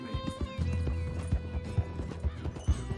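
A horse in the Red Dead Redemption 2 video game gallops with steady, rapid clip-clop hoofbeats and whinnies over them, loud and close, under a thin layer of game music.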